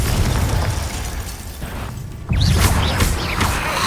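A Confringo spell explosion in the Hogwarts Legacy video game bursts loudly with a crackling blast and scattered debris pops, all over a dense, continuous wash of game sound.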